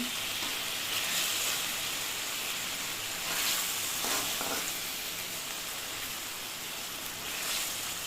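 Pomfret fish sizzling steadily in a hot pan with turmeric, a bright, even crackle and hiss that swells slightly at moments, close by and continuous without any voices.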